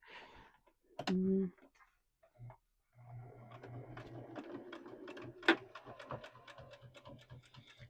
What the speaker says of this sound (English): Just go slow and just follow the little seam and just sew all the way across.